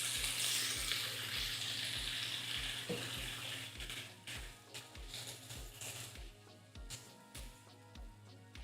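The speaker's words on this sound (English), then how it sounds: "we're gonna add a little bit of water to the pan to help the process" Water poured into a hot pan of wilting greens hisses and sizzles loudly at first, then settles into a steady crackling fry with faint bubbling, close up and without speech.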